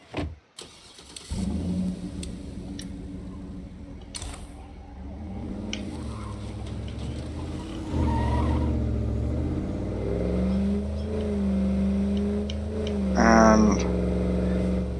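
A truck in the State of Decay 2 video game starts up and drives off, a steady mid-pitched engine drone rising as it accelerates, with game music and effects layered over it.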